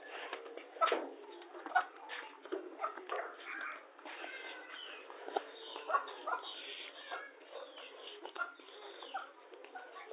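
Soft, repeated cooing of a pigeon sounds close by, mixed with rustling and faint background voices, in a muffled, narrow-band recording.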